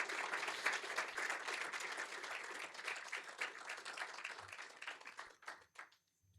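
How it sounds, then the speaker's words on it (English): Sustained applause from a seated audience at a sheriff's corrections academy graduation ceremony, dense clapping at steady volume that thins out and fades to silence near the end. "I would just once again like to give them a round of applause as a group"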